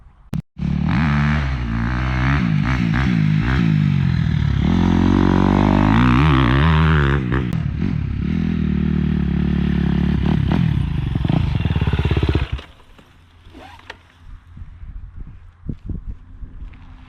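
Dirt bike engine riding through ruts, loud and close with rising and falling throttle pulses under steady power, then cutting back to a low idle and faint clatter near the end.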